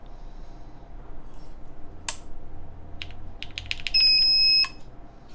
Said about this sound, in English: It sounds like my fire alarm is going off.